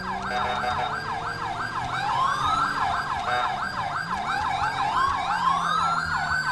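An ambulance siren wails in the video game GTA V with the LSPDFR mod, a loud nearby up-and-down cycling tone that repeats quickly over faint vehicle engine noise, with no voices.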